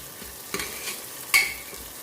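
Onion with ginger and green chili paste fries in a pan for a raw potato sabzi. A soft sizzle runs under two short, close scraping stirs, with no voices.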